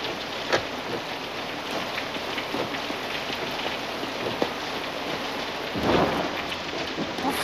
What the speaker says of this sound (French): c'est l'orage et tous ces éclairs qui te rendent un peu nerveux